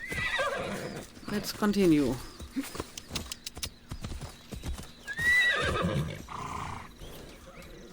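Horse neighs and hoofbeats in Assassin's Creed Odyssey, a whinny rising near the two-second mark and again past five seconds, with clip-clopping steps in between, heard under ongoing talk and game sounds.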